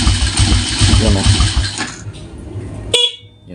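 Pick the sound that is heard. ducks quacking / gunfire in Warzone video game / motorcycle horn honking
motorcycle horn honking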